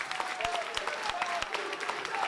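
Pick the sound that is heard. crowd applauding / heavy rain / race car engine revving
crowd applauding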